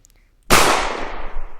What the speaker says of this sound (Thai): เฮ้ยทำไมมีเสียงปืนน่ะ